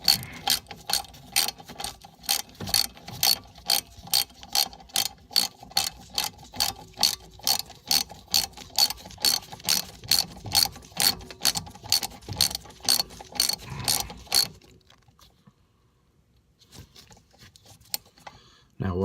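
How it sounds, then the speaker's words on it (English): A ratchet wrench loosens a front brake caliper bolt on a 2006 BMW 325i, giving a long run of evenly spaced, close metallic clicks that stops abruptly, followed by near quiet. "Get the ratchet turned in the right direction, and we'll break it loose"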